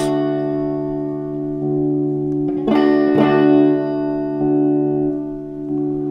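Electric guitar with two pickups wired out of phase, notes ringing out with a thin, hollow, nasal tone, sustained chords separated by a few brisk strums.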